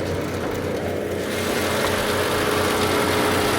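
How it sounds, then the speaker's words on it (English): A BMW engine idling with the hood open, a steady low rumble with a faint uneven pulse, heard up close and alone. "Oh, I hear some engine noise."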